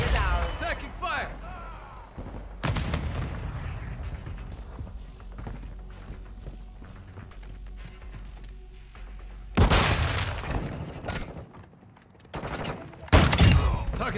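Gunfire in a video game deathmatch: loud bursts of shots and booms come in clusters, separated by quieter stretches with scattered impacts, while a voice calls out now and then.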